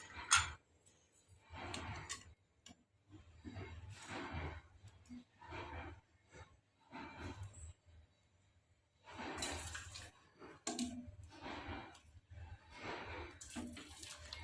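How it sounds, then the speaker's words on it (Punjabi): Cooking water from village-style sarson da saag, mustard greens cooked open in a pressure cooker, drains out in uneven splashing bursts with short pauses, close and moderately loud, and no talk over it. "ਸਾਰੇ ਪਾਣੀ ਨੂੰ ਆਪਾਂ ਸਾਗ ਚੋਂ ਕੱਢ ਲਵਾਂਗੇ"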